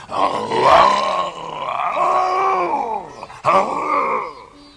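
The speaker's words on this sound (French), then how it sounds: "Dès que le tigre le vit venir, il surgit d'un taillis et rugit plus fort que jamais." A tiger at the edge of a forest roars loudly and close by, a long rising and falling growl followed by a second shorter roar.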